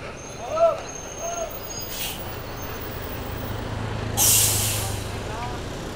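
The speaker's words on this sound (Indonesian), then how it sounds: "bus NPM V47 masuk Terminal Jati Pariaman" A bus pulls into Jati Pariaman bus terminal, with two sharp hissing bursts of air brakes over a low idling engine rumble and faint vehicle noise.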